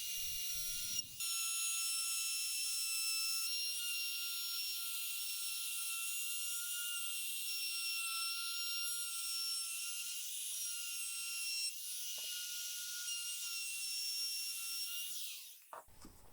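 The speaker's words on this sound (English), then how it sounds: "I'll use a round over bit to round over all the edges of the board" A router fitted with a round-over bit rounds the edges of an end grain cutting board, giving a steady high-pitched whining hiss that runs continuously with small dips before spinning down at the end.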